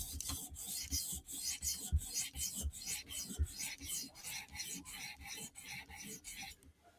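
A knife edge is drawn in backward strokes across a sharpening stone, a steady run of rhythmic raspy scrapes about two to three per second, close and clear.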